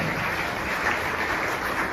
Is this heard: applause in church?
yes